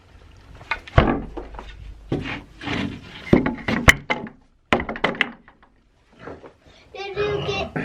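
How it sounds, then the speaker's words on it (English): A wooden pig pen door on a farm closes with a solid thunk, followed by bumping and rubbing sounds amid talk, including a voice. "close the pig pen door and lock it"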